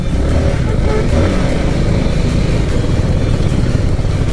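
A 300cc motorcycle engine roars steadily and loudly nearby as it accelerates on the road, a continuous dense drone with wind rush and no clear talking.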